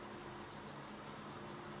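An overload warning buzzer on an automatic elevator control and overload detection system switches on abruptly and holds a steady, piercing high-pitched electronic tone, close and loud, with no talk.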